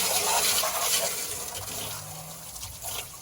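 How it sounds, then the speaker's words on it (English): Water gushes and splashes steadily while the inside of a Pentair pool filter tub is rinsed out, a continuous close hiss of spraying liquid with no talk. "I come over and I wash out the inside of the tub"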